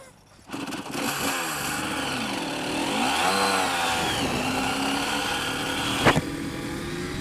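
A Yamaha TZ250 racing motorcycle's two-stroke engine fires after a bump start, settling into a loud, raspy idle with a rising and falling rev swell and a sharp blip near the end, close by.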